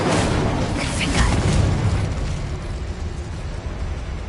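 Spell blasts from Bombarda, Incendio and Confringo erupt in Hogwarts Legacy, a run of loud, close booms and fiery bursts that pile up at the start and rumble off into a long, dense roar.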